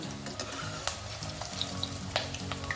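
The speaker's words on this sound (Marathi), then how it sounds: "कमी तेल घेतलेले वडे तेलात बुडतील एवढं तेल काही घेतले नाही शॅलो फ्राय करतोय आपण" Chana dal and spinach vadas shallow fry in a little oil with a steady close sizzle and small crackling pops throughout.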